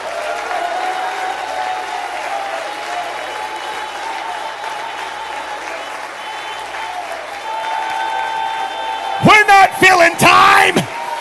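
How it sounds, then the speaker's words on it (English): During a church service, the congregation breaks into loud applause and shouting after a stretch of steady background sound with a sustained tone, the clapping and cheers arriving in a dense burst near the end. "give me an opportunity to shout with my voice and clap my hands right now"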